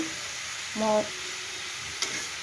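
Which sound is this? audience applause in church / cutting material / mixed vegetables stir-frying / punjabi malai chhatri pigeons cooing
mixed vegetables stir-frying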